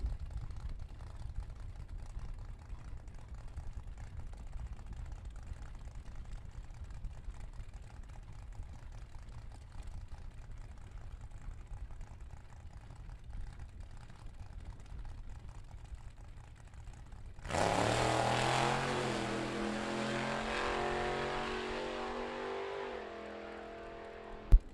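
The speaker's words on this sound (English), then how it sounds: "your final double A gas entry of this session, the Woolly Bully Pontiac Le Mans" Pontiac Le Mans gas-class car at a vintage drag race: a long stretch of distant low engine rumble, then a sudden loud roaring launch that keeps blasting as the car pulls away.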